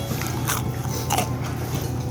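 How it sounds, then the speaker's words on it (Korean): Crunchy, classic deep-fried tangsuyuk, Korean sweet and sour pork, is bitten and chewed up close, with a couple of crisp crackling crunches over steady low background noise. "여기는 완전히 클래식하게 그냥 먹으면 입천장 까질 정도로 바삭바삭합니다"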